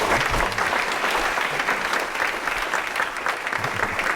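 Sustained audience applause welcoming art lecturer and longtime curator Ted Stebbins to the stage, dense steady clapping from a full hall with no voices over it.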